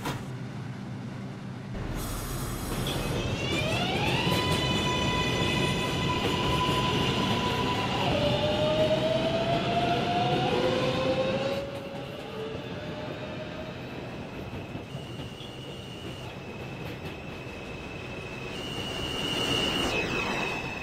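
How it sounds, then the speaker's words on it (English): A Reventon-bound 6 local subway train runs loud and close, with a rumbling roar of wheels and rising motor whine, then sustained metallic squealing tones as it moves along the track. "This is a Reventon-bound 6 local train."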